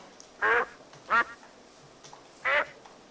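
A chicken in a modded survival video game makes three short, nasal, quack-like calls, spaced about a second apart against a quiet background.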